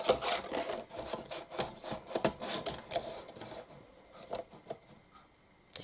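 A Tim Holtz Tonic deckle-edged paper trimmer slices through card in a series of close, rasping, scraping strokes with small clicks, the blade dragging in uneven bursts.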